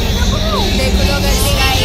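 A crowd at a Navratri night gathering fills the air with a dense babble of many voices, close and loud, with traffic-like rumble and a few voices standing out.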